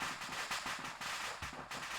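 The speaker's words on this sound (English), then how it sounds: "I can't hear all of these fucking explosions" Military parachute exercise battlefield noise: rapid bursts of blank gunfire and small explosive pops in quick irregular succession, loud and continuous, with distant crackling around it.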